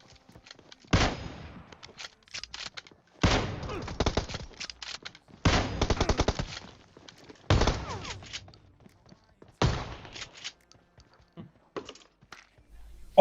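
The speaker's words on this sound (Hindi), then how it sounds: "मैं गोली चला रहा हूँ कार 98 की दोबारा कवर में" Kar98 bolt-action rifle shots from PUBG Mobile boom out five times at a slow, even pace, each loud crack followed by a short tail and quieter clicks between shots.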